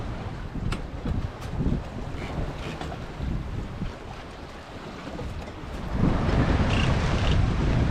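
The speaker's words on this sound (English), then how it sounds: "the occasional big wave" Heavy waves slap and surge against a sailboat hull at sea amid steady wind roar, with a louder, fuller wash of water building toward the end.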